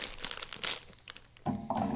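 Crinkly plastic wrapping of an Asian snack being pulled and torn open, a few sharp rustling bursts up close, then a louder, denser crunch of packaging near the end.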